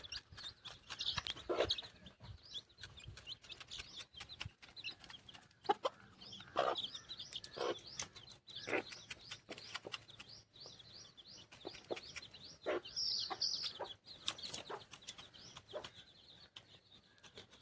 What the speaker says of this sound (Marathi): सगळी गावठी कोंबडी आहे